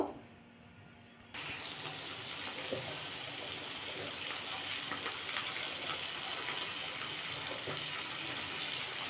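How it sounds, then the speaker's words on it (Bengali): Potato pieces drop into hot oil, and a sudden, steady loud frying hiss starts after a quiet moment and bubbles on continuously. "আমার তেলটা গরম হয়ে গেছে আমি এবার এর মধ্যে আলুটা দিয়ে ভেজে নেব"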